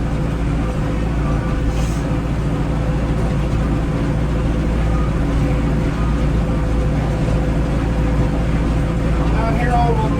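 A Mahindra tractor engine runs at a steady idle-like rumble throughout, a continuous low droning with faint mechanical noise, close and unchanging.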